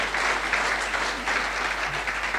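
Sustained applause from a crowd at a business seminar, steady clapping throughout with no talking over it.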